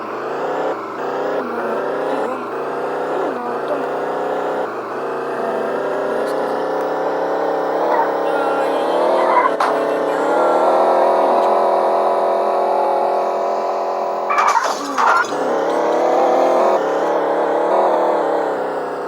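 A car engine held at high revs, a loud continuous whine that rises and dips with several throttle blips at the start and a sharp surge near the end, close and alone with no talk.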